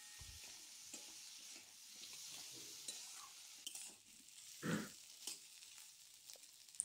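Ground cumin, fennel and ginger paste frying with potatoes in a pan, a quiet sizzle with occasional spatula scrapes and a louder clatter of stirring near the middle, close and faint with no talking.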